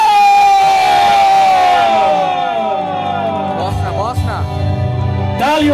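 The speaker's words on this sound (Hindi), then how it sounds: "तालियां हो जाए उनके लिए दे दनादन दन" A crowd at a live club cultural stage show cheers and shouts loudly as a singer comes on stage, with a strong voice ringing over the dense, continuous roar.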